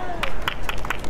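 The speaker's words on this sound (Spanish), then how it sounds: "Venga, un aplauso para que la pase" Crowd at a street rally in support of hospitality workers clapping in quick, irregular bursts, fairly close, with voices and chatter mixed in.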